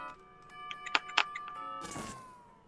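A doorbell chimes inside the Fortnite video game, a few bright ringing tones over a steady electronic hum, followed by a short rushing swell near the end.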